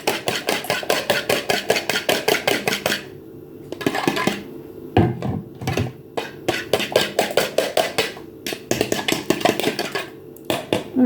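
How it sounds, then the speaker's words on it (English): Eggs being beaten by hand without a whisk for zucchini muffins, rapid rhythmic clinking of a utensil against a bowl in fast bursts with short pauses, close and loud, no voices. "So we beat the eggs until they're mixed up."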